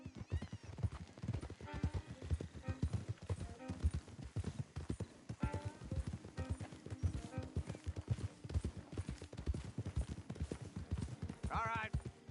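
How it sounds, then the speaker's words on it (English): Horses' hooves clopping in Red Dead Redemption 2, a close, rhythmic clip-clop of several horses walking, with a whinny or two and voices talking over the steady hoofbeats. "Don't want the horses clopping around outside the window."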